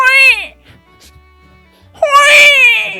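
A voice imitates a small baby crying. He gives two loud, wavering wails with a quiet gap between them.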